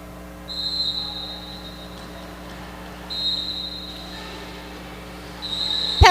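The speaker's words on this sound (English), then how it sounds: "Penalty whistles raining down." Referee penalty whistles at a roller derby game: three sharp, shrill blasts, each about a second long, spaced a few seconds apart over an arena hum, the last one clashing with a loud knock.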